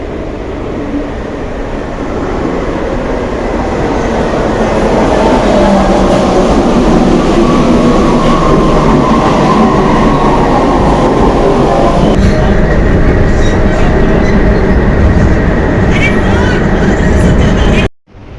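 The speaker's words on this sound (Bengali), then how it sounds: "ট্রেন এসে গেছে" A metro train roars loudly and continuously, a deep rumble with rail clatter that builds and holds before cutting off abruptly at the end.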